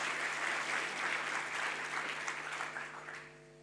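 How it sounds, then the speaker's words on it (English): Audience applause after a talk, steady for about three seconds and then fading out, fairly quiet with a low electrical hum beneath. "Give her a big round of applause."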